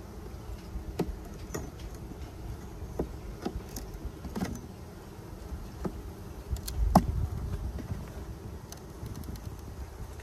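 Honeybees droning around an opened hive during an early spring inspection, a steady soft buzz that runs throughout, with scattered clicks and light handling knocks nearby.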